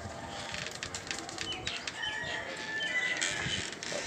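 Sick pigeons in a loft in Faisalabad, Pakistan, make soft bird sounds and occasional wing flutters against steady background noise, with no talk.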